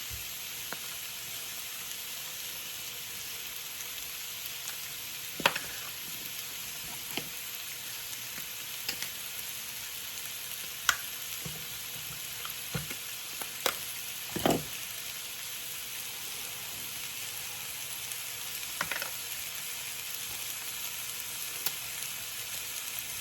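Shrimp curry pasta sizzles steadily in a pan, a constant bright frying hiss with a few scattered clicks and scrapes of stirring; no talking.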